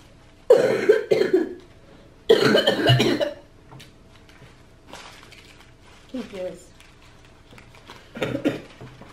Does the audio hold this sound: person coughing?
yes